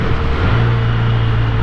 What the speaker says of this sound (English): that was a very smooth downshift, Mike